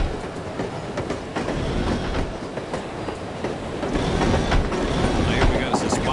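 Train rolling along the tracks in the PC spy game No One Lives Forever, a steady close rumble with rising clatter toward the end, under conductor and passenger voices.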